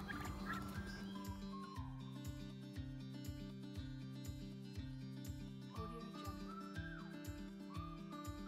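Turkeys gobbling repeatedly in a backyard flock with chickens near a feeder made from a 5-gallon bucket, loud close rhythmic bursts over a steady background.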